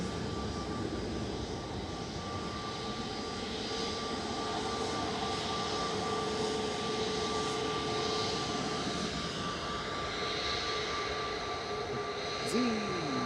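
A Boeing 737 takes off and climbs at Manchester Airport, producing a steady, sustained jet engine roar heard from a distance across the open airfield, with faint wind noise.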